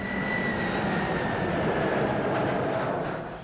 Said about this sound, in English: This is what it sounds like outside of an airplane.